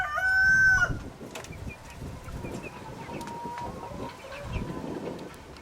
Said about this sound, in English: This is the chicken nursery.